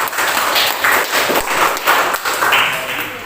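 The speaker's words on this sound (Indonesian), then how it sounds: "beri aplaus dulu untuk kelompok 5" Classroom applause for group 5, a short spell of loud, close clapping from several people with uneven rhythm, mixed with the room's hubbub.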